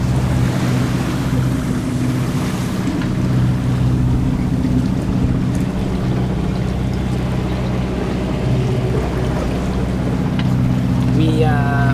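Sailboat motoring across a calm sea, a steady low engine drone with a constant hum of water rushing past the hull, loud and close throughout.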